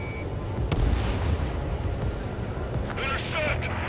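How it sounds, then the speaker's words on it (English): Missile launch and anti-aircraft fire in the jet combat game Ace Combat 7: Skies Unknown, a deep rumbling roar with heavy booming bursts and crackle, loud and sustained, with radio voices talking over it. "H2, missile launch."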